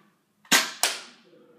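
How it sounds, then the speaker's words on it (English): A Nerf N-Strike toy blaster fires a dart at a wall: a sharp snapping pop followed a beat later by a second sharp crack as the dart strikes, both near and loud in an otherwise quiet room. "I'm gonna shoot it at the wall."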